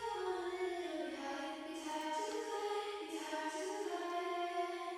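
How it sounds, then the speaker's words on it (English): A sung vocal line carries a basic short reverb that leaves a brief tail on each word. The voice is sustained, steady and fairly loud throughout. "This is a very, very basic reverb I've got going on."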